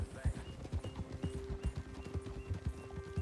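A horse trots in a video game, its hooves clip-clopping in a quick, even rhythm close by. A voice speaks over the hoofbeats.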